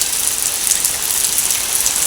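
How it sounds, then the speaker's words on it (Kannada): First rain of the season falling outdoors as a steady, dense hiss, continuous and fairly loud throughout with no breaks and no voices. "ಬಂದಿದೆ ನೋಡಿ ಮಳೆ"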